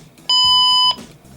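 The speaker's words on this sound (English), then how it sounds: "there's the other button beep for setting it up" A RadioShack 12-259 radio gives a single steady electronic button beep, clear and close, lasting over half a second against quiet room noise.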